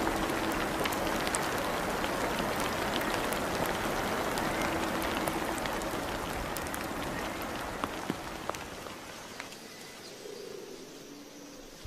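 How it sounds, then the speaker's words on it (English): Steady rain falls on the forest of Christmas Island, a dense, continuous hiss of drops on leaves and ground that stays even throughout and thins slightly near the end. "The rain softens the soil and revives the land."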